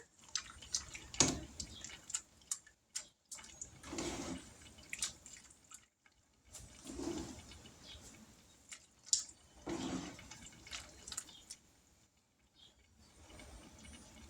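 Hamburger Helper Salisbury being stirred in a pot, with soft wet scraping and sloshing in uneven bursts, quiet and close with pauses between strokes.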